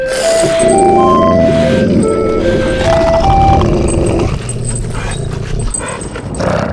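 A puppy in the video game Weird Park barks and yips in a series of short, high calls amid bright melodic game chimes, close and loud, with softer whimpering sounds later.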